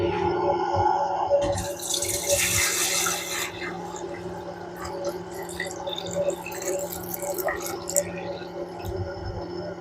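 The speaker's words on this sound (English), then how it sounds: "Now let's pour in the milk." Raw milk is poured into a cream separator, a steady liquid stream splashing into the bowl for several seconds, strongest early on, with faint trickling after and a few brief background sounds.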